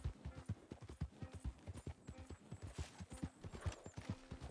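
Horse hooves clip-clop at a steady walking rhythm, close and distinct, in the game Red Dead Redemption 2, with faint outdoor ambience beneath.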